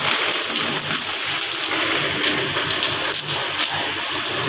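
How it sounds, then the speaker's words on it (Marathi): Steady rushing rain with gusty wind at the onset of Cyclone Biparjoy, a dense constant wash of noise that swells slightly at moments, close and loud, no voices. "वारं प्लस पाऊस"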